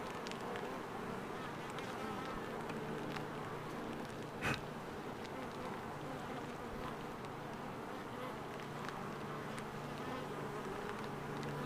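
A honeybee swarm drones steadily throughout during a capture in Red Bluff, a dense, continuous buzz of many insects close by with no talk over it.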